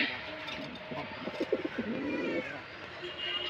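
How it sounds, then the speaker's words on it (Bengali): A Rajgolla pigeon's low, rolling coo sounds up close for a couple of seconds over faint room noise, with soft chirps around it. "এই যে আমার কবুতর জোড়াটা দেখতেছেন"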